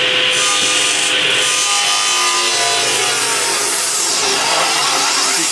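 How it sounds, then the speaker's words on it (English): A table saw with a VFD cutting maple at normal speed gives a loud, continuous whining, rasping cut that stays steady throughout. "This would be the speed of a normal maple saw."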